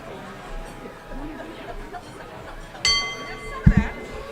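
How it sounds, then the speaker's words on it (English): A handheld bell rings once with a bright, lingering metallic tone at a Rotary Club of Tucson meeting, followed by a couple of dull thumps, with room chatter underneath. "Let me ring the bell."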